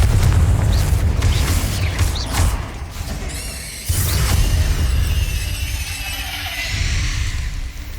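In Hogwarts Legacy on PS5, a Confringo spell lands with a deep booming blast, followed by another heavy burst and crackling debris, with whooshing magical effects trailing off afterward.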